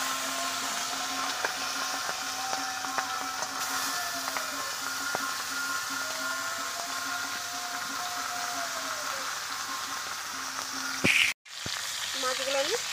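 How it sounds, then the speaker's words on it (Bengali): Fish pieces fry in hot oil in a pan for a Bengali mixed-fish curry, a steady close sizzle throughout with a brief clatter near the end. "মাছগুলো এখন ভেজে নিচ্ছি।"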